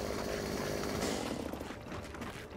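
A chainsaw revs loudly and continuously in the Gears of War 4 video game, a harsh buzzing roar that stays close and steady throughout, with no talk over it.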